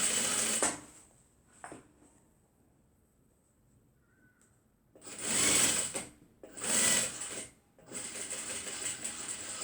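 Sewing machine stitching a tote bag in short bursts, loud rapid whirring runs separated by quiet pauses, close up.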